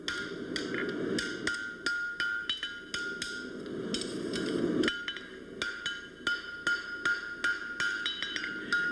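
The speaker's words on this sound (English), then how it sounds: "bring that reference point over the center of the anvil and just give it a little tap there" A hammer taps a shoe on an anvil during shoemaking, giving a series of light, sharp, close taps in an irregular rhythm, some coming in quick pairs, over a quiet background.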